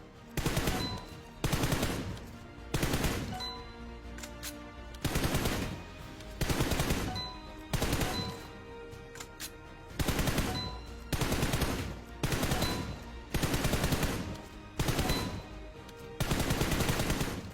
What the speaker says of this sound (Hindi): मैं एक टारगेट पे मैक्स टू मैक्स 4 से 5 ही गोली चला रहा हूँ